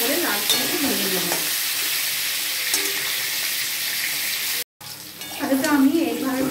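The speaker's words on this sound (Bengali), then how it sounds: "আলুগুলো আমি ভালো করে লাল করে ভেজে নেব" Potatoes fry in a pan with a loud, constant hiss of hot oil, broken by a brief cut, and a voice speaks faintly near the end.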